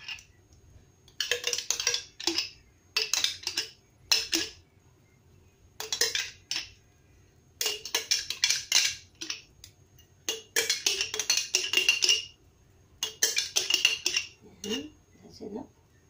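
Spoon clinking and scraping against a bowl while a fruity creamy macaroni salad is mixed, in irregular bursts of clatter separated by brief pauses, fairly close.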